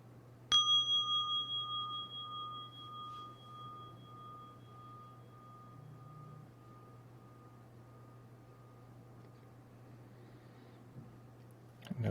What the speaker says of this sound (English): You can go ahead and listen to the bell.